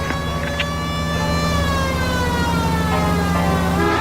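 A police car siren wails steadily and loudly in the L.A. Noire video game, its rising and falling tones running continuously over the car's engine, with no talk.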